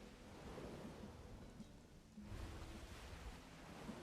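A game thunderstorm in Black Desert Online: steady rain hiss with low rolling thunder that swells louder in the second half, heard alone without talk.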